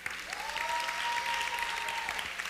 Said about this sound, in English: Clap for them as they leave.